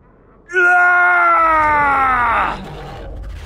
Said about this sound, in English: With one shriek, the man was devoured by the hulking Krayt Dragon